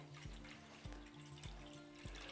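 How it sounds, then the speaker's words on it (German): Water is poured steadily and quietly into a container on a scale, 700 grams of it for a bakery batch of Allgäuer Seelen dough. The flow runs as a soft continuous stream with faint low thumps underneath. "Da tun wir jetzt 700 Gramm Wasser."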